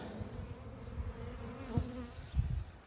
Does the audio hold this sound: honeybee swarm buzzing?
yes